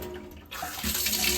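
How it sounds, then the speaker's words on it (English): Water gushes from a Deva Carlow kitchen monobloc mixer tap after the supply is turned back on, starting with a sudden rush and settling into a steady, close stream splashing into the sink. "Water's now back on."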